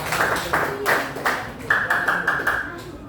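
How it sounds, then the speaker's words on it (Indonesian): An audience gives a group a round of applause: several hands clap in a moderately close, uneven patter, with a faint ringing tone and quiet voices underneath. "Tepuk tangan sekali lagi untuk mereka"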